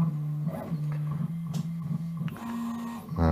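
A 3D printer loaded with PETG checks its bed positions, stepper motors humming in steady pitched tones with short pauses and shifts between moves, close and fairly quiet.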